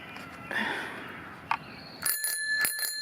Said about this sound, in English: so I bought a bell